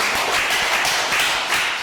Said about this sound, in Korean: 우리 영광의 박수 하나님께 드립니다.